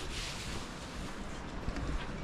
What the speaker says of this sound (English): it's a bit windy and not very clear